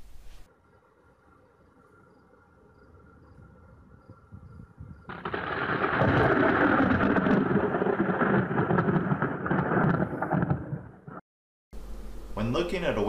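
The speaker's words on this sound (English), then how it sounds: "Did you hear the thunder right away?" A deep, rolling rumble of thunder swells up after a quieter stretch, rumbling loudly for several seconds before cutting off abruptly.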